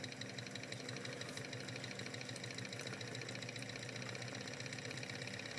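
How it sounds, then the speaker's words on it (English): A small Wiggers Stiwi 2 model steam engine, fired by its burner, runs flat out with a fast, even chuffing rhythm, steady and fairly quiet up close with no talking. "we can start the engine"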